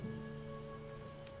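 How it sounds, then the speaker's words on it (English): Rain falls outside as steady, soft, even patter with a faint continuous hum underneath, distant and quiet. "Lately, it's been raining a lot where I live."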